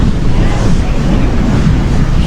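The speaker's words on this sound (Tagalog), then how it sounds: "sobrang lakas ng hangin" Strong wind buffets the microphone at a beach during the monsoon season, a steady loud roar with broadband rumble and no letup.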